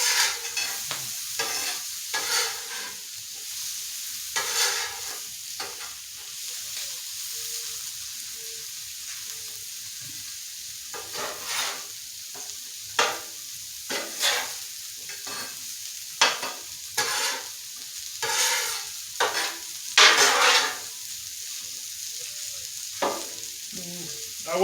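Vegetables fry in grease on a hot surface while a spatula turns them, a soft constant sizzle punctuated by many sharp scraping strokes and clacks at an uneven pace.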